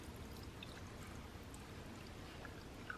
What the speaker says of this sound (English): So let's put the water in and then kind of see.